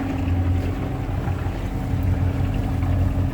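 A sailboat's engine motors steadily in dead calm on the Indian Ocean, a continuous low drone with a strong steady hum and some wind and water wash over it, no talk.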